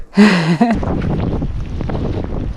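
Gusty wind buffets the microphone in a loud, uneven roar after a brief tonal sound at the start, rising and falling throughout, during a storm at a ski area.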